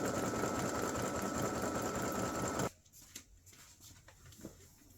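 An embroidery machine satin stitches a candy cane appliqué with a dense, rapid buzzing that cuts off sharply partway through, leaving faint handling noises afterward.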